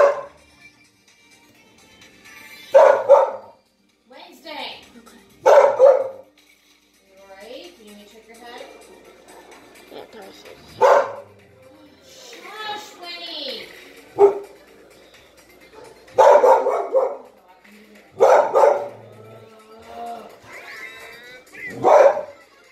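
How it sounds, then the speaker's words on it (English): A dog barks indoors in short sharp bursts, roughly eight separate barks and yips spread irregularly over the stretch, loud and close, with people talking quietly in between. "has been barking all day"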